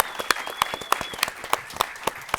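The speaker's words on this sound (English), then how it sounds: "Another round of applause, please." Audience applause for artists and panelists at a public event, a steady wash of many hands clapping with sharp individual claps standing out, fairly close and sustained throughout.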